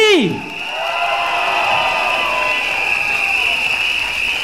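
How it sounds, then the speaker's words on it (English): At an outdoor stadium election rally, a large crowd roars with cheering and applause, heard as a sustained distant wash beneath a loud, ringing tone and reverberant sound. "A rousing applause for Mr. Ong Ye Kung. Louder, everyone, louder for the PAP."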